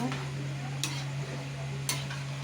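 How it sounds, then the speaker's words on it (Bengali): Chana dal and whole pumpkin chunks are stirred as they fry in a pan, with a steady low sizzle and two sharp utensil scrapes against the pan. "বন্ধুরা একটু নাড়াচাড়া করে নেব।"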